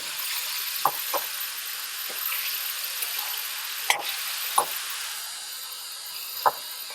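Ghevda bean pods sizzle steadily as they are stirred in a pan over a medium gas flame for a dry bhaji. A few sharp spatula knocks stand out above the soft, continuous frying hiss.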